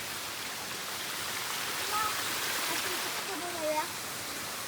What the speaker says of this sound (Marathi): शेत तुडुंब भरून वाहत आहेत.